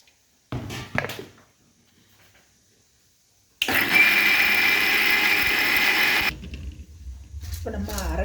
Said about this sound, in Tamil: இதை நம்ம அரைச்சிட்டு வரலாம்.